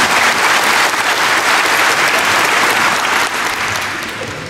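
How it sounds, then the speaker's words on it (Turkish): Strong, continuous audience applause greets a performance of Turkish devotional song, a thick wash of clapping that holds steady and then tapers slightly toward the end. "Bir moral alkışı verirseniz."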